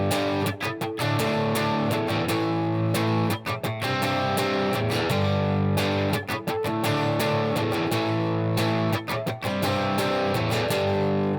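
Distorted electric guitar plays the chorus of a song, loud, steady strummed chords with rhythmic choppy accents repeating through the phrase, no voice.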